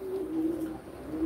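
Pigeons coo steadily at a bird auction in Antalya, Turkey, with a low, continuous murmur of cooing and no other sounds standing out over the short stretch.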